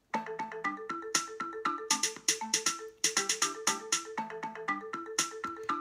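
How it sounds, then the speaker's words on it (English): Bright, bell-like notes from a music app set to a pentatonic scale, played in quick, steady runs of short plucked tones, fairly soft, with no voices. "So we can make it pentatonic, which sounds like this."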